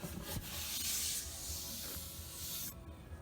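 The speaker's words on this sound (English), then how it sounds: "I'll sand the edges just a little bit more" Close, steady sanding on the edges of a wooden drop table: a loud, hissing abrasive rasp with strokes rising and falling, then stopping near the end.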